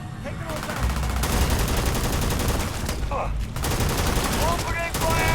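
Rapid automatic gunfire crackles loudly and continuously through a firefight against Crimson Fleet pirates in the video game Starfield, with brief pauses between long bursts and a player's voice talking over it.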